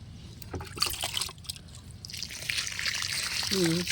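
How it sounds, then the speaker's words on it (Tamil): Water trickles steadily onto soil around tomato plants that have just been fertilized, a soft continuous dribble running through the clip with no talking. "இப்போ உரம் போட்ட செடிகளுக்கெல்லாம் தண்ணி கொடுத்துர்லாம்."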